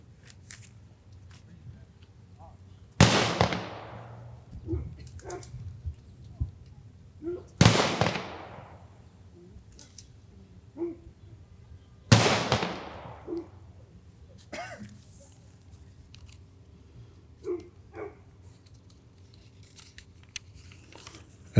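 At an outdoor Memorial Day ceremony in Simsbury in 2022, a rifle squad fires three loud volleys about four and a half seconds apart. Each sharp crack rings out and decays, with quieter crowd rustle in between.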